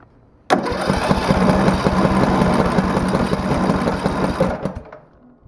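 A DR brush mower engine on choke starts abruptly and runs at a loud, steady, rough mid-pitched rhythm for about four seconds, then cuts off and fades.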